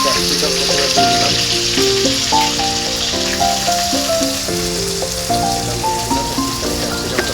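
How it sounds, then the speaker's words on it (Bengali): Capsicum sizzles and crackles in white oil in a wok, a loud, steady frying hiss with occasional stirring clatter. "ক্যাপসিকাম প্রথমে দিয়ে দিলাম।"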